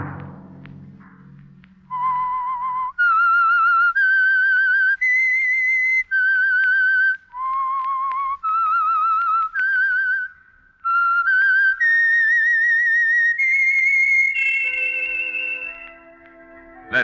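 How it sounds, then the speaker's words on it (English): A lone whistler carries the eerie theme signal of The Whistler radio program, a slow melody of clear, sustained pure notes rising and falling over about fifteen seconds, close and prominent, ending in a fading held tone. "Let that whistle be your signal for the Signal Oil program, The Whistler, each Sunday night at this same time."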